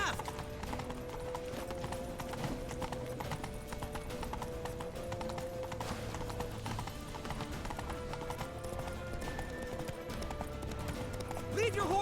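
Galloping horse hooves in a video game, a fast continuous clip-clop rhythm running throughout, loud and close amid busy game sound and shouting voices.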